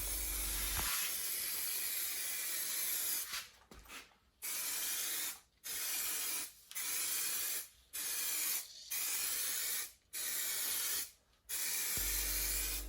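Lacquer sprayed from a spray gun onto a car bumper during a DIY paint job, steady broad hiss in repeated bursts separated by short pauses, close and fairly loud with no voices.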